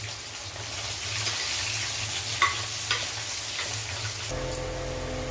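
Spices frying in a kadai for a home-style egg and potato curry, a steady soft sizzle with occasional stirring scrapes and clinks, close and continuous, with a brief faint hiss change near the end.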